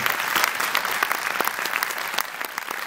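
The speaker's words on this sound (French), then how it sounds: "je vous demande de les applaudir parce que vraiment ils font un travail" Audience applause at a film premiere for "Irréductible" at a UGC cinema, a steady, dense wash of clapping from a full room lasting throughout.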